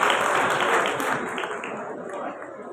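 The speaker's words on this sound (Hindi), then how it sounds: "एक बार जोरदार ताली बजाया जाए उसके लिए।" Audience applause at a large Hindi poetry gathering during a festival celebration, a broad steady wash of many hands clapping that stays loud throughout and tapers slightly toward the end.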